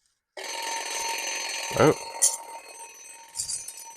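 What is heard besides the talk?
alarm clock ringing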